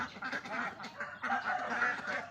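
Four-month-old ducks quack in a close, lively chorus of overlapping calls and honks that carries on without a break.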